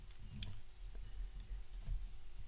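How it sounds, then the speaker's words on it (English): A single sharp computer mouse right-click, close and quiet, followed by faint low background hum with no talk. "So firstly, I'll right click"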